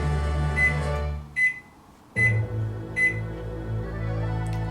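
A microwave oven hums steadily while its beeper sounds repeatedly, a few evenly spaced short beeps, before the hum cuts out briefly and resumes with more beeps.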